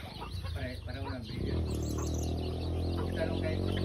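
Chickens clucking close by, with short bursts of clucks and a louder run of calls that merges with background voices.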